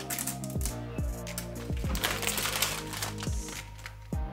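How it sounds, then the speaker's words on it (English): Protective plastic film is peeled and crinkled off a new Alienware Aurora R11 desktop computer at close range, with a series of sharp clicks and crackles over a steady background hum. "Lots of plastic on this to peel off."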